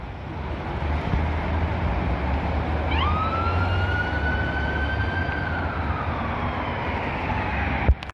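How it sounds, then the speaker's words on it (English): A faint emergency vehicle siren on a Montreal street, heading east on Henri Bourassa, wails with a rising and falling tone over steady traffic rumble, ending with a brief bump. "I heard that signal, I heard that siren."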